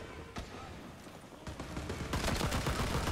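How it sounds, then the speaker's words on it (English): Rifle fire in Rising Storm 2: Vietnam, with a few spaced single shots followed by a rapid run of close, loud shots near the end, over a noisy battlefield background. "I'm shooting too fast!"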